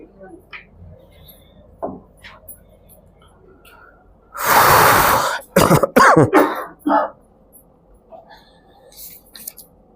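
A burst of harsh, rough coughing and throat clearing in the middle, loud and close, with quiet breathy sounds before and after.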